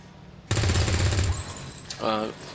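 Soldiers fire guns in the video game XCOM 2 with the Long War 2 mod: a loud, close burst of rapid shots lasts under a second and is followed by a short voice.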